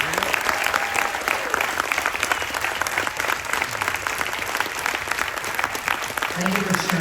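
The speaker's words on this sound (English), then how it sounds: "Let's show them both one massive round of applause." Dense, sustained applause from an audience honoring a WWII veteran at a military appreciation event aboard a Carnival cruise, steady clapping throughout with crowd noise.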